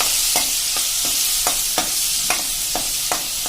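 Ginger, green chili and garlic paste sautéing in hot oil for a Punjabi potato-capsicum curry, a loud constant sizzle broken by about eight regular spoon scrapes against the pan, close and without speech.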